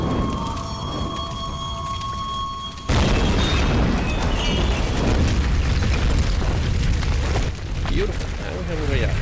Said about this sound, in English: Light this on fire. And be ready for a big explosion.